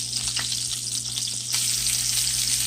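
Flounder and perch fillets frying in hot oil give a steady, fairly loud broadband sizzle throughout, with a few soft crackles and a brief swell in intensity partway through.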